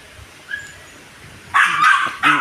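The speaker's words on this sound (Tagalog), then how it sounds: "Yung aso ni Jessa, tinatawag ako." A dog barks close by in a quick burst of several sharp yips, then one more bark after a short pause, loud and clear against a quiet outdoor background.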